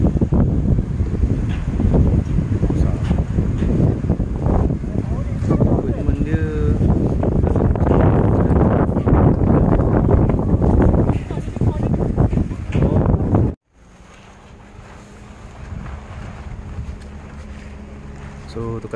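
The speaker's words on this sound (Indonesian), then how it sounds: "Kat sini pun angin kuat tapi at least ada penghadang." Strong wind roars and buffets the microphone at a Cameron Highlands campsite, a dense rushing noise with people talking underneath, then suddenly dropping to a much quieter windy hush near the end.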